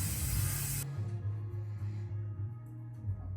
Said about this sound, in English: Once the bottom's sprayed, then I'll come up to the top and spray the